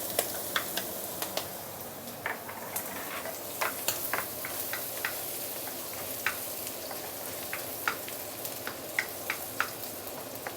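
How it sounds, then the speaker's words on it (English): Ginger and garlic sizzle in rendered pork fat in a pan, a steady close crackle with scattered sharp pops and ticks, no voices. "This is the time where you can put in the ginger and garlic."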